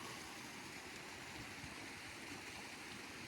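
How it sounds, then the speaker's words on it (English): Spring snowmelt runoff rushes down a rural ranch road as a steady stream, a continuous broad roar and gurgle of flowing water close by, with no other sounds. "Right up here where that little waterfall bit was coming from."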